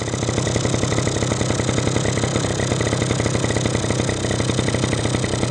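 A two-stroke engine idles nearby in a steady, even clatter, its rapid pulsing rhythm unchanging throughout with no voices.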